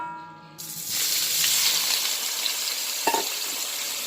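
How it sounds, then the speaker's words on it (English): Spices and seasoning drop into hot oil in a pot for Jamaican corned beef and cabbage, and a sudden loud sizzle bursts up, then settles into steady frying with a brief scrape or clink partway through. "So we are fry up with seasoning with spice right now"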